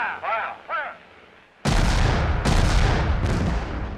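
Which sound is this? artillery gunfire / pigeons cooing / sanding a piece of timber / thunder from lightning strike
artillery gunfire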